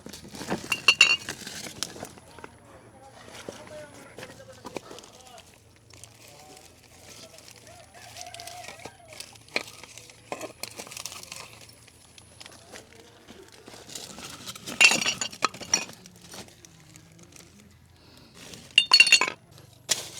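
Broken glass shards clink and scrape as they are picked up and handled during a neighborhood cleanup, with sharp clusters of clinking at the start and near the end and quieter rustling and faint voices between.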